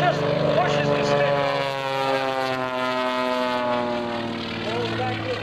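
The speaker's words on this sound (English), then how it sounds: "Bringing her back to Airshow Center again, rolls the airplane around, aileron rolls, just pushes the stick." A propeller aerobatic airplane, Samson, rolls through aileron rolls at the 2004 Sussex Airshow, its engine droning loudly with a buzzing, harmonic tone that shifts slightly in pitch as it passes and turns.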